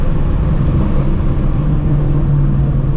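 A 700 hp supercharged Shelby GT350 engine pulls hard, a loud, constant, dense roar with a steady droning tone heard from inside the car, with no voices over it.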